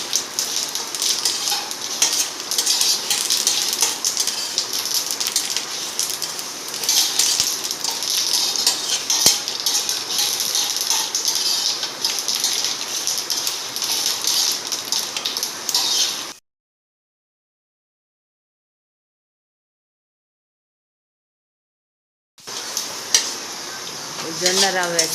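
Sorghum (jonna) porridge being stirred in a pot, a continuous scraping swish with a faint sizzle, cutting out to silence for several seconds before resuming briefly.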